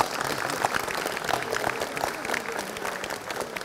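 Applause from a large crowd in a hall at a veterans' association congress meal in Oradour-sur-Glane, dense continuous clapping at an even level throughout, with faint voices underneath.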